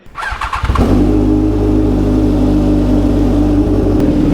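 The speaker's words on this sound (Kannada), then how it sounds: "ಇದು ಹಳೆ ಎಸ್ ತೌಸಂಡ್ ಆರ್ ಆರ್ ಹಳೇದು" A 2012 BMW S1000RR sport bike fires up with a few stuttering cranks, then settles into a loud, close, steady engine drone held for several seconds with no voices.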